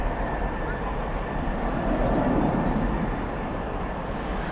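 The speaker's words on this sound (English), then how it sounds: "As we see the British Airways turn here onto taxiway Gulf." A British Airways airliner taxiing onto a taxiway at Dallas/Fort Worth airport at night, heard as a broad roaring engine rumble that swells slightly midway, distant but steady.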